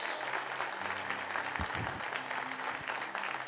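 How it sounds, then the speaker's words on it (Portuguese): A church congregation applauds during an evening service, a steady, distant patter of many hands mixed with faint voices and low background tones. "aplauda o nome dele hoje à noite, em nome de Jesus"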